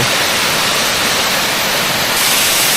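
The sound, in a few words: waterfall flowing down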